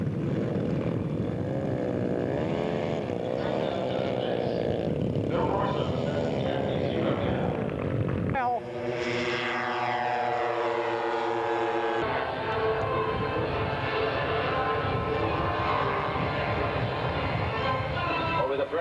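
Four-engine scale model airplane flying past at an aircraft show, a loud sustained drone of engines with a clear pitch drop as it passes, commentary heard over the sound.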